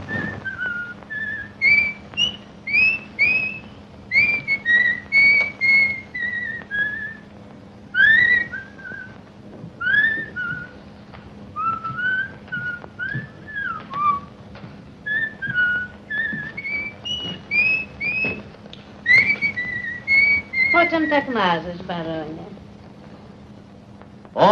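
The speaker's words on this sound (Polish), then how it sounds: "Ona gwiżdże na to" A woman whistles a lively tune in a 1934 film, with a long run of clear, melodic phrases up close, ending in a quick sliding flourish.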